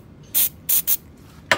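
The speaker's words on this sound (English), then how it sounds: "So what we're going to do is we're just going to give a spray." Short hissing sprays of CowRC electronics cleaner and degreaser onto an RC car, four bursts in quick succession: a single spray, a quick double, then one more after a pause, close and fairly loud.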